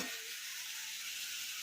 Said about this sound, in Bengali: এই আলু ভাজছি